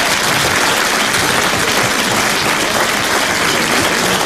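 A concert audience applauds at the presentation of a 2001 album, a loud, dense and steady wash of clapping that fills the whole stretch with no voices on top.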